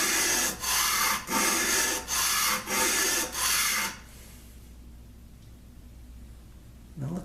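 A spokeshave blade is rubbed back and forth on 80 grit abrasive in six steady, loud strokes, then a few seconds of near silence before a short scrape starts again at the end.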